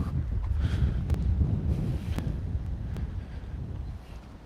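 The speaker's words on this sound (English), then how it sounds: "It is quite windy." Wind buffets an outdoor microphone in a steady low rumble with gusting swells, loudest early and easing slightly toward the end; no one speaks.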